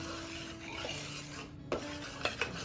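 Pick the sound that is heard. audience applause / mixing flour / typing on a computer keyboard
mixing flour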